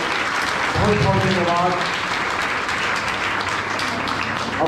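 Audience applause for drama performers at a temple during Durga Puja, a dense crowd clapping throughout while someone speaks briefly near the start.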